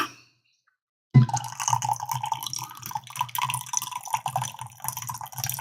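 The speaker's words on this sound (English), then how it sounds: "you hear that lovely pour, folks? Coffee." Coffee, a Black Rifle Cactus Squatch roast, pouring into a cup after a brief silence, a steady close trickling liquid sound that continues for several seconds without talk.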